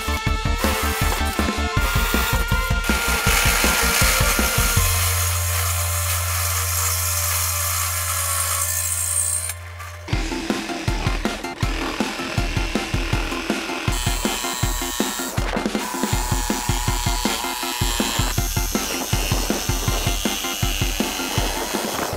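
A saw cuts down a square steel box-section tube on a combat robot build with a loud, continuous rasping stroke rhythm, close up, interrupted by a few seconds of steady low humming midway.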